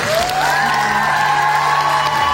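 Crowd applause and cheering at a concert, a dense steady wash of clapping with whoops over a sustained musical tone, continuous and fairly loud throughout.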